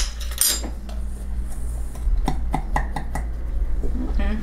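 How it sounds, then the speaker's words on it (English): Utensil clinking against a bowl while whisking keto chocolate muffin batter made with erythritol, chocolate drops and sugar cookie drops, a run of sharp close taps and scrapes against a steady low background hum. "First, I'm gonna whisk it."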